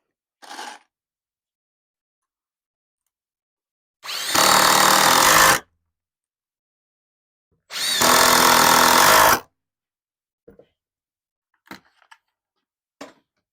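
Power drill driving 2.5-inch screws into a wooden outdoor bar stool: two loud sustained bursts of about a second and a half each, separated by a pause, with a brief tap at the start and a few light clicks and knocks after.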